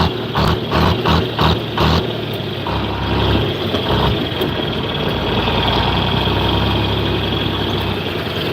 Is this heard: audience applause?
no